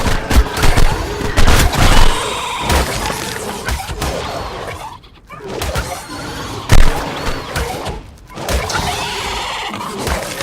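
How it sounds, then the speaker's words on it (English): Rapid bursts of gunfire from shooting in the video game ARK: Extinction, loud and dense, with repeated volleys and crashing impacts and a brief lull midway. "I can shoot at this stuff for free"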